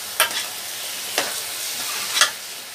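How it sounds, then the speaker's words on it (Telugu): Chicken pieces frying in a pan, a steady broadband sizzle with three sharp clinks or stirring scrapes spaced about a second apart, moderately close, no talking. "ఫస్ట్ మనం చికెన్ పీస్ కొంచెం ఫ్రై అయిపోవాలన్నమాట, మనకి బాగా ఫ్రై అయిపోవాలి"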